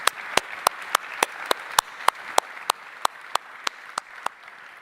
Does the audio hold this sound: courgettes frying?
no